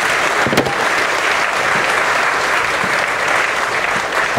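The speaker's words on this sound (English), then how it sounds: "Can we please have a round of applause?" Conference crowd at the Web3 stage of the Ethereal Summit in Tel Aviv applauds after a talk, a loud, continuous roar of many hands clapping, dense and even throughout.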